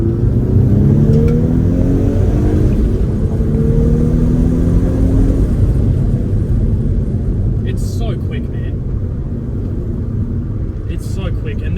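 A 2011 Volkswagen Golf R Mk6 engine roars loudly as it accelerates, its pitch climbing through gear changes with heavy rumble and wind noise throughout.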